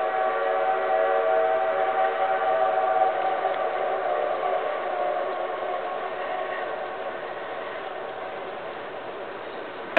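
A distant steam train whistle from the Durango–Silverton line echoes steadily down a mountain valley, long sustained tones drifting and fading slightly over several seconds.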